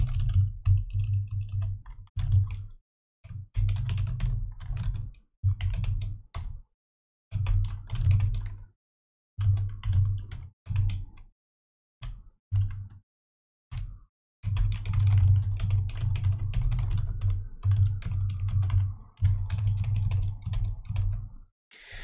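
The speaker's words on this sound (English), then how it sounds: "I will quickly write out what that code was." Close, steady typing on a computer keyboard as programming code is written out, in bursts of rapid clacking broken by brief pauses, with no voice over it.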